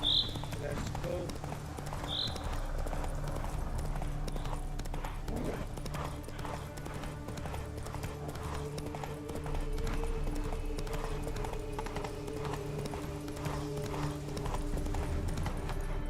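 Steady clip-clop of a horse galloping in the Witcher 3 video game, continuous rhythmic hoofbeats running throughout with a brief whinny near the start and game ambience underneath.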